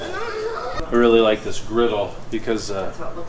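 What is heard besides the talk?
No distinct noise like a dog, phone or traffic.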